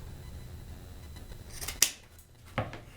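Scissors snip through folded paper in two quick cuts, a sharp crisp snip followed a moment later by a softer one, close by against a quiet room.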